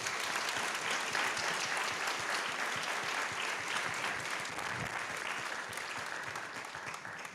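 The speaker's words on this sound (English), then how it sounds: "Let's give these administrative leaders a round of applause." A public school board meeting audience applauds administrative leaders with sustained, even clapping from many people, heard from a moderate distance and fading slightly near the end.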